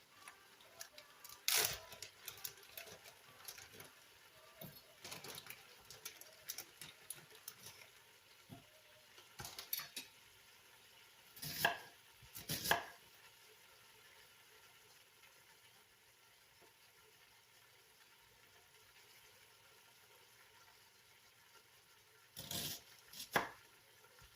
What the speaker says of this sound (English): I need to dice up some onions.